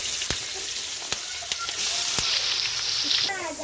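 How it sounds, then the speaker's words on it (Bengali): Chopped onion and whole garam masala fry in mustard oil in a pan, giving a steady, close sizzle broken by a few sharp crackles and pops. "এবার দিলাম পেঁয়াজ কুচি।"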